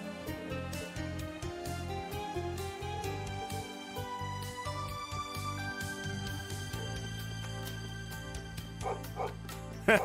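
A dog barks repeatedly in the video game Trails of Cold Steel 3, its short yips rising over steady, loud in-game music throughout.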